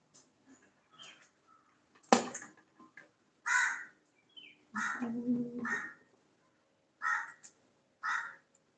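Harsh crow caws ring out one after another at irregular intervals, fairly close, with quiet pauses between the calls.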